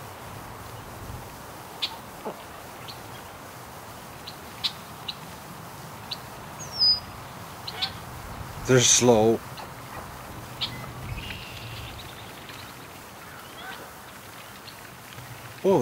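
A Canada goose calls near a creek on a rural property by a garden: one short burst of honking mid-clip, fairly near, over steady outdoor ambience with a few faint bird chirps and a brief spoken remark.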